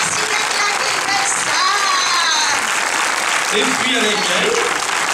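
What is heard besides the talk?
audience applauding the film crew at a premiere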